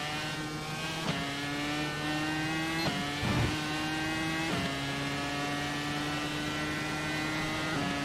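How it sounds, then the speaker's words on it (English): Race car engine in a NASCAR racing video game at Kansas, a loud, steady engine drone held close throughout, stepping in pitch at several gear shifts. "Car's a little on the loud side, at least in my ear."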